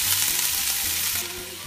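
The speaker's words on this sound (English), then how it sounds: "add all your ingredients so that everything gets nice and sizzly" Garlic and other ingredients sizzle loudly and continuously in a hot pan with ale while a red snapper dish is prepared, a dense close frying hiss that eases slightly near the end.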